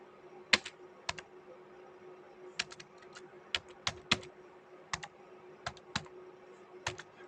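Python code being typed on a computer keyboard: scattered clusters of crisp key clicks in uneven bursts, fairly close, over a steady low hum with no talking.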